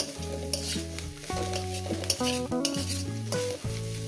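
Brinjal and coriander leaves fry in a pan with a steady, close sizzle and occasional stirring, heard beneath melodic background music.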